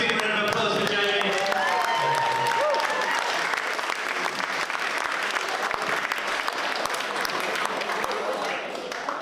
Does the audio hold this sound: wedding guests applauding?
yes